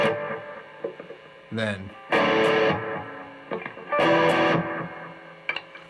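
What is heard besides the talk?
electric guitar G rake with light distortion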